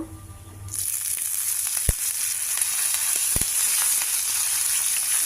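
Curry leaves dropped into hot oil for tempering burst into a loud, sudden sizzle that holds steady and close, with a couple of sharp pops, no voices.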